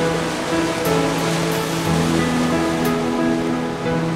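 Ocean surf washes onto a busy surfing beach in Sri Lanka, a continuous broad hiss of breaking waves with faint tonal background sounds mixed in.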